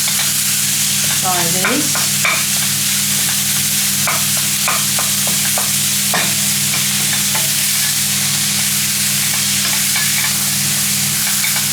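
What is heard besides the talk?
meat being broken up and stirred while frying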